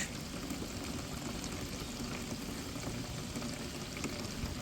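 Tap water poured into the coolant bottle of a Toyota MR2 MK3, a continuous close, even rushing gush with a fine trickling texture and no talk.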